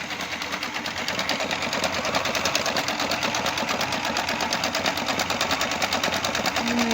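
Electrolux electronic sewing machine running steadily on its longest 4.5 stitch setting, a fast even mechanical whir with rapid needle clatter, close and continuous throughout.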